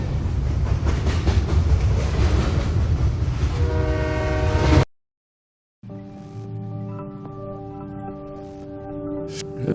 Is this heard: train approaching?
yes